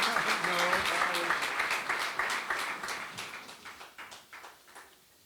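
Audience applause at a company event honoring a long-serving figure at Polykemi: a dense burst of clapping from a crowd that gradually thins into scattered claps and fades out.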